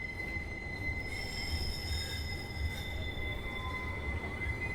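A tram passes along Broad Street by Victoria Square, its wheels squealing on the rails in sustained high, whining tones over a continuous low rumble, loud and close throughout.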